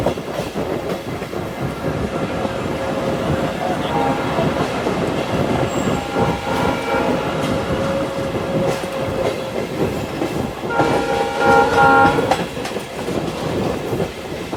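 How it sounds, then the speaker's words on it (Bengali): A passenger special train from Bhanga to Dhaka runs through the Jurain rail gate, with a loud continuous rumble and clickety-clack of the wheels and a brief tonal horn-like blare near the end. "আমাদের ট্রেনটি এখন জুরাইন রেলগেট থ্রু পাস করছে।"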